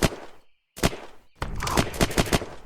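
A gun in Unturned fires sharp, close shots, starting with a few single cracks separated by silence and then a rapid string of shots.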